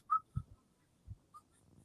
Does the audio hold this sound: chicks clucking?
no